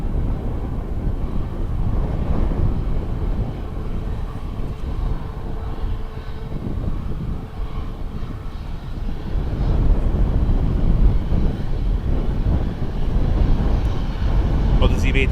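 A Boeing 737 MAX taxies at Dublin Airport, its engines making a steady, loud, broad roar that swells slightly toward the end, with a voice talking over it.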